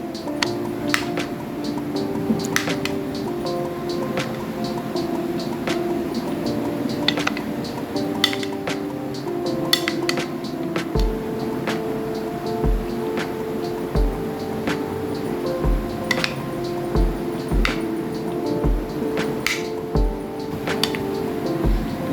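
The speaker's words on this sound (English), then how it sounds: "After peeling the skin, we're gonna cut it into chunks." Knife chopping peeled potatoes into chunks on a board for a spicy potato dish, with steady close clicks and taps, a run of sharper regular chops toward the end, over a faint kitchen background.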